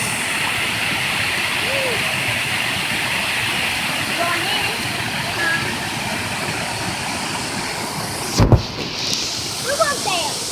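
A waterfall pours in a steady, loud, broadband roar beside a cave, with faint voices and a brief knock near the end.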